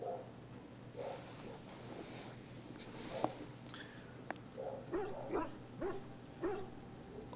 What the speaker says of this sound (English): that's the neighbor dog.